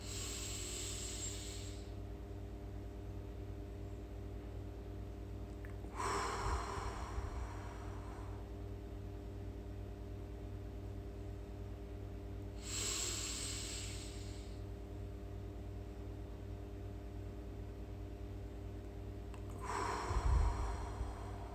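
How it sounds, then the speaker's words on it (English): Square breathing done in four-count steps: slow, close breaths with soft hissing air that swell and fade at roughly even intervals over a constant low hum, with no speech. "Okay, so that's known as square breathing."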